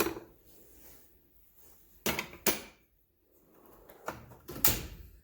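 Metal drawers of a U.S. General 72-inch toolbox slide open and shut, several sharp, close clunks and rattling slides separated by quiet pauses.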